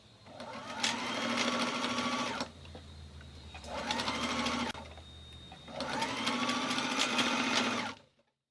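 A sewing machine stitches the collar lining of a Victorian 1890-style waistcoat in three bursts of rapid, close whirring, with brief quieter pauses between them before it stops.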